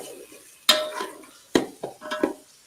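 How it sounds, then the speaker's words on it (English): Food being stirred in a pot on a home kitchen stove, with a few sharp utensil scrapes and clinks against the pot standing out from a soft, close, irregular stirring rustle. "give it a little bit of a stir"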